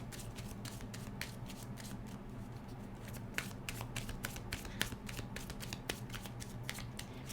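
Tarot cards being shuffled and drawn, a continuous close run of soft riffling with sharp flicks and taps over a low background hum, no talking.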